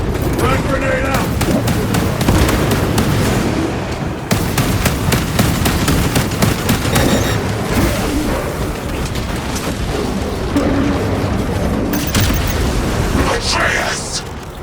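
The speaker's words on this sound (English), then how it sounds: "Frag grenade out!" Explosions and gunfire from Warhammer 40K Space Marine 2 battle fill the scene with a steady, loud barrage of sharp cracks and booms, a frag grenade blast among them, with voices talking over the din.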